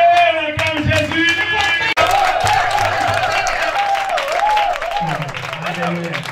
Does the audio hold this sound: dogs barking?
no